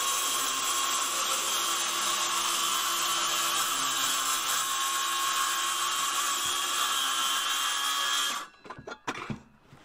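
A power tool cuts off the excess edge of a board for a backyard chicken coop floor, giving a loud, steady, high-pitched whine for about eight seconds before it stops abruptly and leaves a few faint clatters.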